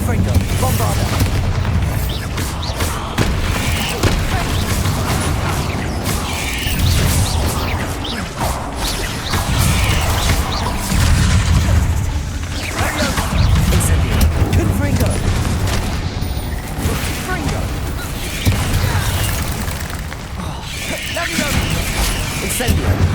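Bombarda and Confringo spell blasts in Hogwarts Legacy boom one after another, loud and dense, over continuous rumbling combat clatter. Voices shout spell names throughout.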